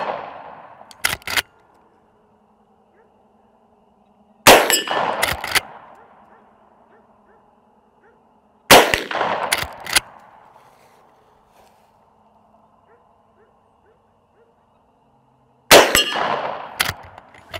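Henry .410 lever action shotgun firing Brenneke slugs at knockover targets outdoors, four loud sharp shots spaced several seconds apart, each followed by metallic clangs of the steel targets being hit and quiet gaps between.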